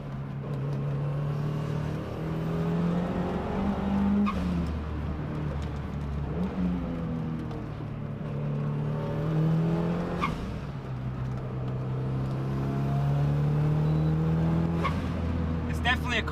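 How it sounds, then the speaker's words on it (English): A turbocharged Mazda Miata with a Flying Miata muffler drives along, its subdued exhaust droning and rising through gear changes with a steady low hum and road noise. "Being a turbocharged car and the Flying Miata muffler, it does a pretty good job of keeping the exhaust noise down."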